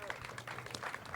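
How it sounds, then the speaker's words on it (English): A live audience applauds, a dense, steady patter of clapping hands holding at an even level for a moment, with no pauses in the noise. "So give a round of applause to Mel."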